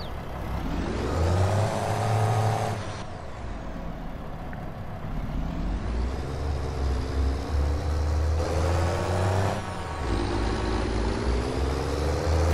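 Grain hauler truck engine in Farming Simulator 22, revving up with steadily rising pitch, then dropping back at each gear shift before climbing again, loud and continuous with no voices.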